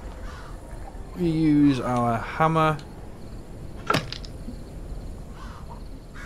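A crow caws a few times in the video game Hello Neighbor 2, in a church level: a short run of loud, harsh, raspy calls, then a single sharp crack, with someone talking over the scene.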